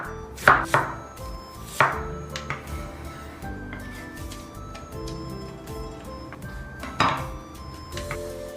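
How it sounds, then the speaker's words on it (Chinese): A kitchen knife chops peeled cabbage into small pieces on a board, giving a few sharp, close, well-spaced thuds over a steady background of faint kitchen clatter and tones. "切小块"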